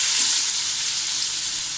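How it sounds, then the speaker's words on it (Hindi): Carrots stir-fry in a hot pan for chow mein, giving a steady, close hissing sizzle with no talk. "आँच थोड़ी सी तेज़ कर दूंगी और मैं इसे तेज़ आँच पे फ्राई करूँगी।"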